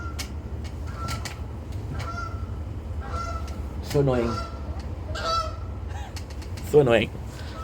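Canada geese honk outdoors in a few loud, nasal calls that rise over a constant low rumble, with a short spoken remark between them.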